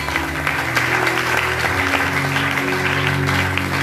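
A church congregation applauding to acclaim the Lord, steady dense clapping from many hands filling the hall continuously, loud and close throughout with a low hum of crowd underneath.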